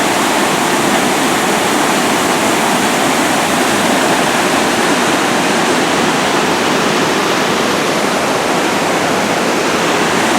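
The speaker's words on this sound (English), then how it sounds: "here's the big rapid waterfall" Close, loud and unbroken roar of river rapids and a waterfall on a Boundary Waters wilderness canoe route, a steady rushing wash.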